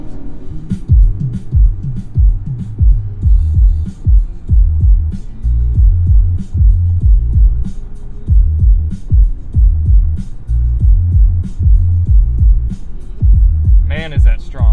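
Loud, bass-heavy music pounds through the AKG Studio Reference 36-speaker system of a Cadillac Escalade, with deep rhythmic low-end throbbing steadily throughout and a brief brighter burst near the end.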